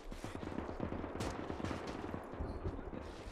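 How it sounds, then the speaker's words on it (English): Maxim machine gun in the Gates of Hell game, rapid steady bursts of rattling fire, fairly faint and distant, continuing through the whole stretch. "The Maxim is shredding me."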